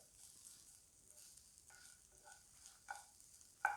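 A faint, steady sizzle of coconut frying in a pan until brown, with a few soft scraping stirs and light clinks near the end.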